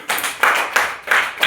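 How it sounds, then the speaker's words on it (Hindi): Students in a classroom clap their hands in a group, several bursts of rhythmic applause rising and falling close by, with no talking over it. "बजाओ ताली जरा इसके लिए"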